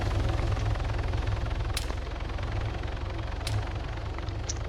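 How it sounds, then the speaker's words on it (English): An Arma 3 helicopter near power lines gives off a steady, loud rotor thrum and engine drone, with a couple of sharp clicks cutting through, and no talking. "Move that goddamn helicopter out of fire."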